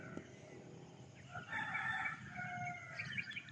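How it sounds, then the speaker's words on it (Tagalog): Birds calling in a park, faint and distant, with a few brief chirping phrases rising over quiet background ambience and no talk. "Marinig mo lang mga ka-viewers yung mga huni ng ibon, ano."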